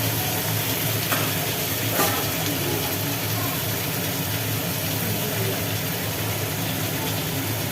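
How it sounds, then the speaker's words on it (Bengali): Marinated country chicken frying in a kadai over fried onions, a loud, dense, continuous sizzle with a low steady hum underneath and a couple of sharp utensil knocks early on, no speech. "মাখিয়ে রাখা মাংসটা এর মধ্যে দিয়ে দেওয়া হলো কড়ার মধ্যে আর কি ভাজা পেঁয়াজের ওপরে"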